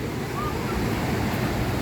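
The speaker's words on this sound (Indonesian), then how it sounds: "Terus ombak sana tuh." Ocean waves wash against rocks on a beach in a steady, continuous roar. The surf is fairly loud and close, with some wind noise and no distinct breaks.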